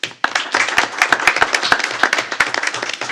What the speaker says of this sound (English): how about a big round of applause for Miss Lynn Edwards.